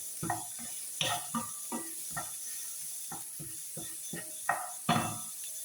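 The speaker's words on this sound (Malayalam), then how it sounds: "ഇത് നന്നായിട്ട് വഴന്ന് വരുന്നതിന് വേണ്ടിയിട്ട് ഇളക്കി കൊടുക്കും" A spoon stirs salted ingredients sautéing in a pan for chickpea curry, giving a steady run of close scraping and clattering strokes over a soft background hiss.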